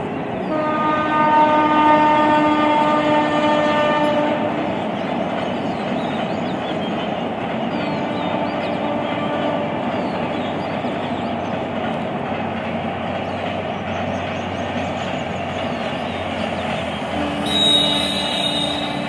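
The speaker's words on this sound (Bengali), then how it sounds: "শান্ত নিরিবিলি এই জায়গাটায় শুধু এখন পাখির আওয়াজ আর দূরে ট্রেনের" A train passes in the distance at a quiet, rural hilltop spot, with a long horn blast at the start over a continuous rumbling rattle of wagons that carries on steadily to the end.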